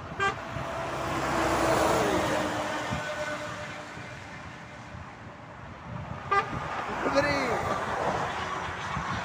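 DAF trucks rolling past on a motorway, a broad swelling roar of heavy engines and tyres passing close, with a horn toot, traffic noise and someone talking over it.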